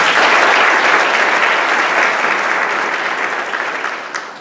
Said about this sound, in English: give her one more round of applause for singing our national anthem